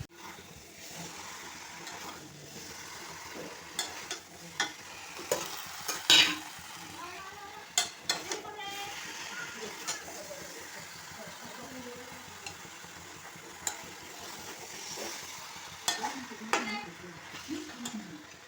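Potatoes, meat and tomato cook in a pan, giving a soft, faint sizzle with occasional stirring scrapes and clinks of a utensil against the pan, and a little talk in the background.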